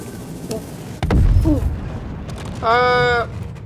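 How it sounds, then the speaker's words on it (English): A vehicle explodes in the Star Citizen video game, a sudden heavy boom around the middle followed by a rumbling tail, then a short tonal mechanical whine. "it randomly exploded in the middle of the goddamn"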